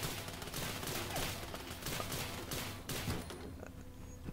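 Rapid bursts of gunfire destroying mainframe cores in Fallout 76, a dense run of repeated shots with a few pauses, fairly faint overall, fading out near the end.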